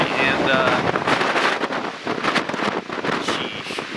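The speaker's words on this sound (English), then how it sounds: "it's so windy today" Strong gusting wind buffets a microphone on an Idaho mountainside during a mule deer hunt, roaring in uneven bursts throughout with no clear voice over it.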